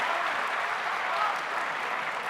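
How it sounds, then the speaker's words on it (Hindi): A mushaira crowd claps steadily for a couplet, a dense even patter of applause held at moderate loudness throughout. "जोरदार तालियां होनी चाहिए दोस्तों शेर पे"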